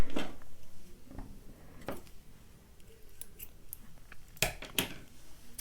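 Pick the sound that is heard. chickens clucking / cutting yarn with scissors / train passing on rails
cutting yarn with scissors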